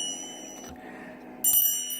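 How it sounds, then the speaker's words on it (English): A bell rings once near the end, a bright metallic strike with a lingering tone over a quiet indoor room at an altar. "Now, I have two bells."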